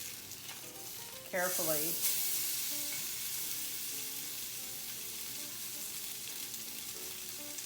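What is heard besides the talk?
salmon fillet sizzling while pan searing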